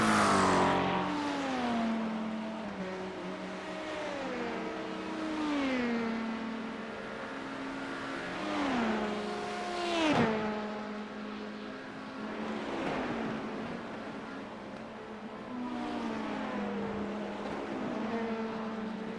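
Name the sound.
LMP2 race car engine in iRacing video game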